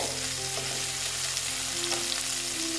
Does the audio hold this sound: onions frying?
yes